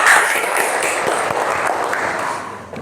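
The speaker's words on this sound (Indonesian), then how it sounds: "tepuk tangan buat kita semua" Schoolchildren in a classroom clap together, a brief burst of fairly loud, dense applause that carries on steadily before tapering off at the end.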